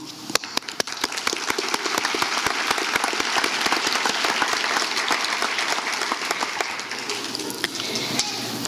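A large audience at a college graduation ceremony applauds the graduates' families, a sustained roar of many hands clapping at once with sharper individual claps standing out, steady and loud throughout.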